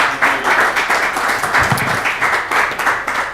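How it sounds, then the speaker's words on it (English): A room of attendees at a city arts commission meeting claps together in a moderately loud, steady round of applause with a faint ripple of individual hands, continuing throughout without speech. "Round of applause."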